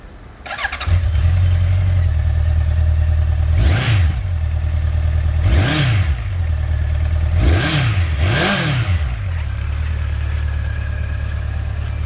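A 2014 Honda CB1100EX motorcycle engine cranks and catches, then settles into a steady, loud idle with several throttle blips partway through.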